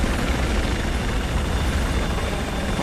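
A helicopter in the video game Battlefield 4 gives off a loud, steady rotor and engine roar that fills the whole stretch without pause.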